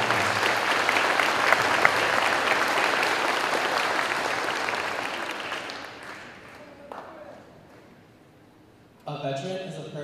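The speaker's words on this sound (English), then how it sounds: "So please give them a round of applause as they come up to explain their veterans." At a Veterans Day ceremony, an audience claps in sustained, loud applause for about six seconds before it thins and dies away, with a voice starting to speak at the end.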